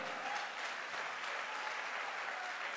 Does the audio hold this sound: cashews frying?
no